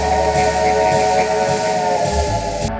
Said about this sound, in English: The whistle audio is a UP Desert 5-chime